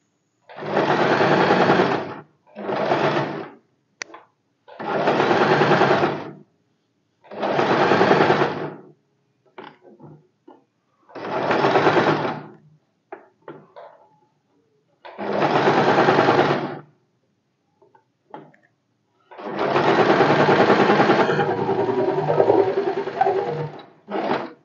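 A sewing machine runs in repeated bursts of a few seconds each while a sleeve seam is stitched, with short pauses between runs and faint handling noises in the gaps; no one speaks.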